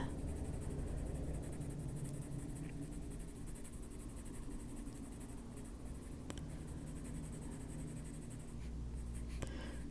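Colored pencil shading on a coloring book page, a continuous soft scratchy rasp of lead on paper with steady back-and-forth strokes, close and quiet, with no talking.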